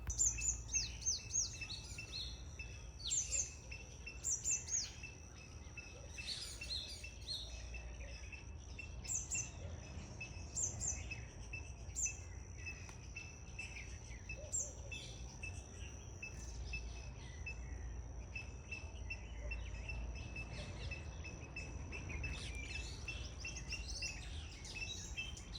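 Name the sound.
many small birds singing in a garden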